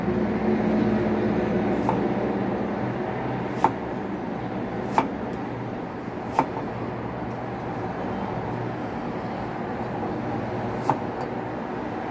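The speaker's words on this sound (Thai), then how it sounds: "เดี๋ยวเราจะไปหั่น ขิงนะคะ" A knife strikes a cutting board in a few sharp, widely spaced chops through peeled ginger over a steady background rumble, with no one speaking.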